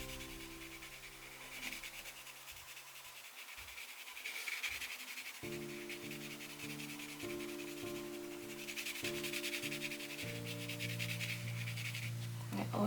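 Coloured pencil shading blue onto paper for a winter bird drawing, a soft continuous scratchy rubbing close up, steady throughout, with a quiet tonal hum running underneath.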